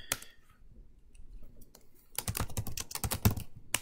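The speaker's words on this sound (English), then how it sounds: "come in here and type in the names of your resources." Typing on a computer keyboard to enter resource names in Microsoft Project, with a few sparse key clicks at first, then a dense run of quick, close keystrokes in the second half.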